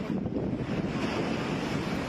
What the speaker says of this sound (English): High tides combined with Storm Pierrick result in enormous waves crashing over the seawall in Saint-Malo.